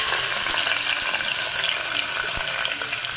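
Onions sizzle and crackle steadily in hot oil in a home kitchen while mutton curry gravy is being made, a dense close frying hiss with a few faint clinks.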